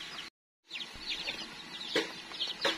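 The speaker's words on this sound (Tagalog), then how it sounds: "Yan na yung sisiw na dinagdagan nung isang araw." Chickens and chicks clucking on a farm: soft, scattered clucks and high peeping chirps, fairly close, with a brief silent gap near the start and a few sharper calls later.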